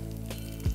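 Dried red chilies hit hot oil that already holds browning onions and mustard seeds, giving a steady, close frying sizzle with a brief soft thump near the end.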